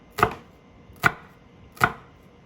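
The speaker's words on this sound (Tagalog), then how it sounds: "Halika, mapakita ko sa inyo paano maghiwa ng sibuyas." Knife chopping an onion on a cutting board for a kangkong recipe, three separate sharp thuds evenly spaced about eight-tenths of a second apart, close and clear, with no talk.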